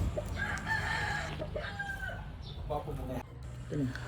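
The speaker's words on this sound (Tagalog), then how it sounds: "Hatch green ni Boss Insan GB Backyard, 9 months pa ni siya" A nine-month-old hatch green gamecock at a backyard gamefowl farm crows in a drawn-out call, with other fowl clucking nearby and a steady low hum of background noise.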